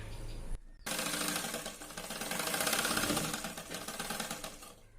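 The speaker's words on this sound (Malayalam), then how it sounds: "ഒന്നും കൂടി ഇങ്ങനെ ഒന്ന് മടക്കി തയ്ക്കാം" A sewing machine stitching folded fabric for a baby girl's dungaree skirt, a rapid close mechanical whirring chatter that starts after a brief pause, swells in speed and runs steadily before trailing off.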